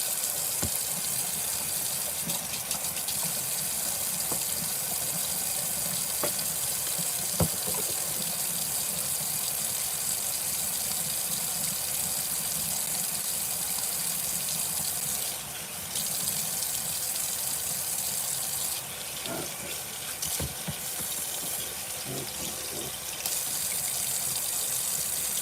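Running tap water pours steadily into a sink while a doll head is scrubbed clean, a continuous close gush with brief dips and a few soft knocks, no talking.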